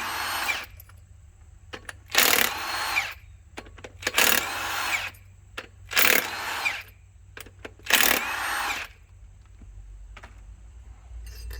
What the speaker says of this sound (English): So we'll take these loose, take the flywheel off.